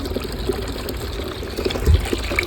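Water pours steadily from a tank onto garden plants and potted roses, a continuous close splashing gush with a brief heavier surge near the end.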